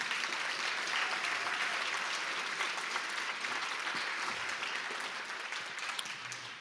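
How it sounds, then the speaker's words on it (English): Sustained applause from a large audience at a homelessness summit, steady and dense throughout, with no break in the clapping. "give them a big round of applause"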